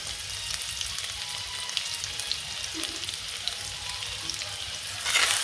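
Ginger frying in a pan gives a steady, close hiss and crackle of sizzling oil, swelling louder at the very end as something more hits the pan.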